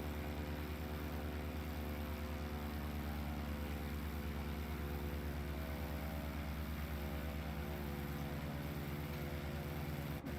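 An airplane engine in a flight video game drones at a constant, low, even pitch for the full stretch, quiet and unchanging, with a steady hum and no talking over it.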